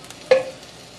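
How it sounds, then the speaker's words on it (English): One quick stir of beef and shiitake mushrooms in a hot pan, a single short scrape with a light sizzle underneath, close by and alone. "Give them a quick stir."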